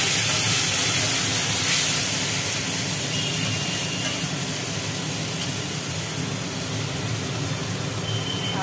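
Onion and tomato paste sizzling in hot oil in a pan for a prawn curry, a loud, steady broadband hiss that fades slightly over time, with no talking.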